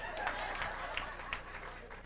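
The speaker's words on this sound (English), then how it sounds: "You're supposed to clap for that." Audience at a Barbados cultural awards event claps, a thin, scattered round of hands at low volume with a few sharper claps standing out and a faint low hum beneath.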